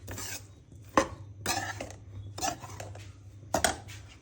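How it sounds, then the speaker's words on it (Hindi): Spoon scraping and clattering against a pan as a dry fruit laddoo mixture is stirred, in several distinct strokes spaced about a second apart over a low steady hum, with no talking. "और चलाते जाएंगे साथ साथ, ताकि सारी चीज़ें अच्छे से ऐड होती जाए।"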